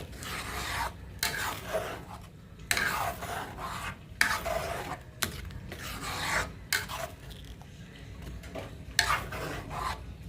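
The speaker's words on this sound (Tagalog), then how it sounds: "Tapos, maglagay ako ng oregano. Dry na oregano. Haluin natin ng maigi." Spaghetti sauce with dried oregano being stirred in a pot: repeated rasping, scraping spoon strokes come in rhythmic bursts with short pauses between them, close and clear, with no talking.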